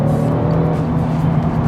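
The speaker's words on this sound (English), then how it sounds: "with that new sports exhaust this year, we get to hear even more of that engine" Twin-turbo V6 of a 2022 Genesis G70 sports sedan growling steadily through its sports exhaust, a loud, continuous low engine drone heard from inside the car with no talking.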